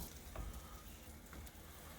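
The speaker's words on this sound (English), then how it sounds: "it's time to go put them on our hot pan. We're going to get them nice sizzling, get a nice gold crust on there" Buttered burger buns fry on a hot pan with a soft, steady sizzle and faint crackles throughout, quiet and close, with no voices.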